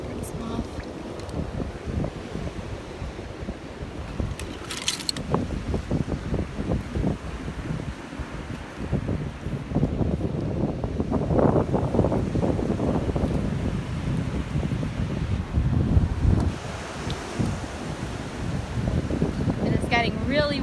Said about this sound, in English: Getting really windy out here, so hopefully the wind isn't too bad for you guys.